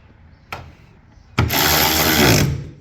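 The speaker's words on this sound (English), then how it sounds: "Milwaukee battery ratchet makes this very fast" A Milwaukee battery ratchet tightens plastic planter meter parts on classic John Deere corn-planting equipment: a sharp single tap, then a loud, close, steady mechanical whir lasting about a second.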